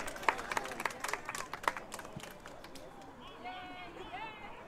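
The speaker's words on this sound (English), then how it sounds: "Round of applause for Danny Espoleta." A crowd at a soccer match claps and cheers in a burst of applause that fades out over a few seconds, with murmuring voices underneath.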